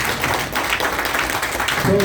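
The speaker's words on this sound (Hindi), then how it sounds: "अमर भाई के लिए जोरदार ताली" A seminar audience gives loud applause for Amar: a close, thick burst of clapping that carries on steadily through the brief moment.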